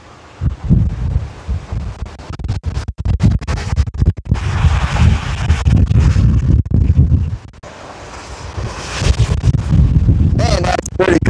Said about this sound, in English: Yeah, it's pretty windy out here